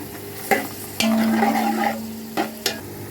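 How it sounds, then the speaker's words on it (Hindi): Onions fry in hot ghee in a pan, a close sizzle broken by a few sharp scraping stirs and knocks, with a brief sustained tone in the middle and no talking. "अब इसमें हम डालेंगे प्याज। प्याज को हम लोग गोल्डन करेंगे।"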